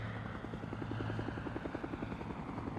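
A military helicopter from the film Le Chant du Loup hovers close overhead. Its rotor blades beat in a fast, even, rhythmic chop over a dense, loud engine roar.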